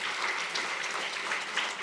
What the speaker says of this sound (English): Please give a round of applause to all the supporters